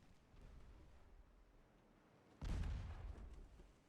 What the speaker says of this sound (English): Okay, so we fire 6 shells.